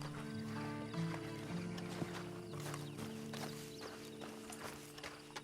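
Horse hooves clop at an easy walk in the Western game Red Dead Redemption 2, an even beat of soft knocks close by, set against a low musical hum.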